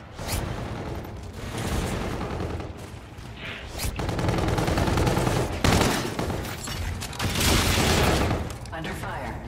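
Dense automatic gunfire and bursts from Call of Duty: Infinite Warfare multiplayer combat, loud and sustained for most of the stretch, with sharp cracks, repeated rattling volleys and a player talking over it.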